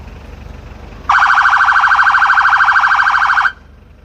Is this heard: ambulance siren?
yes